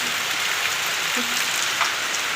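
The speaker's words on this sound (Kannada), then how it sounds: "ಫುಲ್ಲು ಗಾಳಿ ಮಳೆ ನೋಡಿ" Heavy rain in strong wind falls as a steady, even hiss and patter on surfaces, loud and continuous with no voices.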